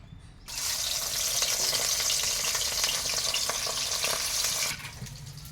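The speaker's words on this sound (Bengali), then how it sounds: "এবার মাছটাকে আমরা ভেজে নেব।" Rohu fish pieces rubbed with salt and turmeric drop into hot oil and crackle in a loud, steady sizzle that begins abruptly and settles lower near the end, with no voices.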